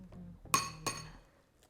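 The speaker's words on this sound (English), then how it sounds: "We're just going to crack the eggs into a bowl first so we can whisk it." Eggs tapped on a bowl rim and cracked open, two sharp clinks close together, soft and close, then quiet.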